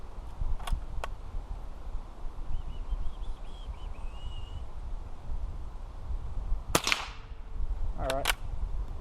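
BSA Sportsman Model 1 air rifle firing, a sharp crack followed by a short mechanical clatter, with a couple of faint clicks earlier over outdoor background noise.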